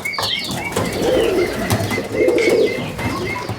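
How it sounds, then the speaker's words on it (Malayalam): Homer, satin and archangel pigeons coo in a steady low rolling murmur, close and fairly loud, with a couple of swelling coo phrases and faint chirps and wing rustles mixed in. "വലിയ പ്രാവുകൾ കുറവാണ് ഇതിൽ അധികം ഹോമർ അതുപോലെ സാറ്റിൻ പിന്നെ ആർക്കേഞ്ചൽ അങ്ങനെയുള്ള പ്രാവുകളാണ്"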